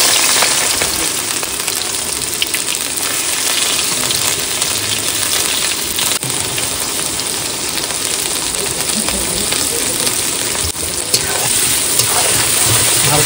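Garlic fries in hot oil in a pan, a continuous loud sizzle and crackle filling the whole stretch, with occasional stirring and no clear talk.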